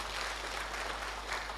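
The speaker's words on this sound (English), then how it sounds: "So for that, we can give a round of applause to the entire IT team," A conference crowd at a state-level e-court initiatives event claps for the IT team, a steady, fairly faint wash of applause over a low background hum.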